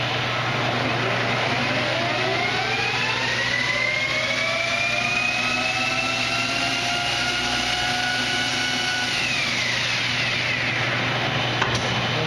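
A Victor metal lathe runs steadily at its top speed of 1200 RPM, giving a loud, continuous mechanical whine with a constant hum underneath and rising and falling tonal sweeps, with no talking.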